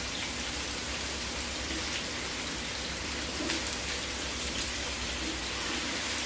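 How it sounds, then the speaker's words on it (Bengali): Potatoes for aloo dum fry in a covered pan, giving a steady, dense hiss and crackle of hot oil that stays even throughout, close up with no talking. "আলুটাকে আমি এখন ঢেকে ঢেকে ভেজে নিই।"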